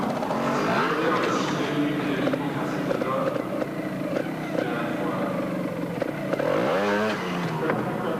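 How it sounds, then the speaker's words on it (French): Trial motorcycles at an indoor trial event in a large arena putter at very low revs, a steady, rough engine drone under continuous commentary and crowd noise. "le régime extrêmement faible auquel tournent les moteurs de ces machines de trial"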